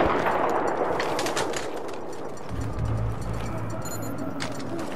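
Rapid automatic gunfire rattles almost continuously through a Battlefield 3 combat scene in Operation Swordbreaker, with heavier low rumbling bursts and a dense battlefield din mixed in.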